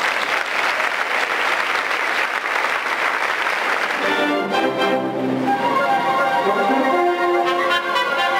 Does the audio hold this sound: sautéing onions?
no